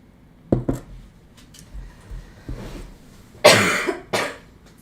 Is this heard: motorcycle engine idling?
no